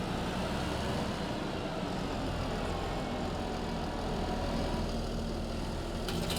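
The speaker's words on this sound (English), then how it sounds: "I'll be using our own welter tractor" A farm tractor carting harvested green beans rumbles steadily with a low, continuous engine drone that stays at an even, moderately loud level throughout, with no voices.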